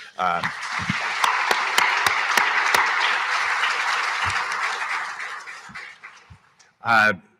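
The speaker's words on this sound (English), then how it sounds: "I'd like a round of applause for our panel today." An audience at a panel discussion on clean fuel standards gives a round of applause, a dense burst of clapping that fades out after several seconds, and a voice speaks briefly at the end.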